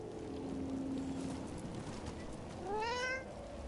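A single cat meows close by, a rising then falling cry lasting about half a second near the end, over a steady background of wind-like noise.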